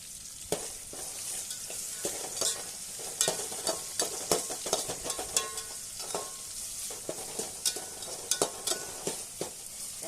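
Chopped tomatoes with salt fry in a pan for uppittu, a continuous hiss broken by frequent sharp clicks and scrapes of a spoon stirring against the metal.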